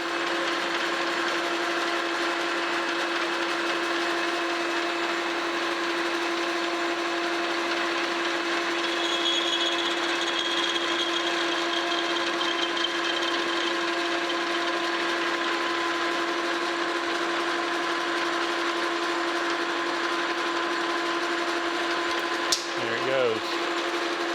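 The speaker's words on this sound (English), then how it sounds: "I got a parting tool in there, and we're just going to part this right off." A Monarch 10EE lathe runs steadily with a parting tool cutting off a turned alignment pin, giving a continuous mechanical hum and whine that stays loud and even before ending in a brief scrape near the finish.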